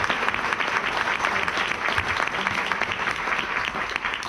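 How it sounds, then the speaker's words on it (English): Audience applause for committee chairs at a Lafayette commemoration at Woodlawn, a dense steady wash of many hands clapping together, even and sustained throughout. "So the real round of applause is our committee chairs."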